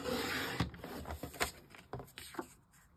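Cardstock is trimmed for a Christmas card, giving a series of soft scraping and sliding strokes with light taps, close and moderately quiet, with a faint steady hum behind.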